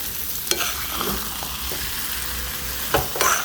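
A thick grated fresh coconut vadi mixture is stirred in a pan over a low flame, giving a soft steady sizzle broken by a few close spatula scrapes and knocks.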